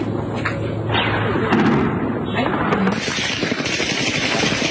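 Rapid bursts of gunfire crackle through a residential area in southern Lebanon, sharp repeated shots and thuds over a loud, rough background, with a voice faintly present.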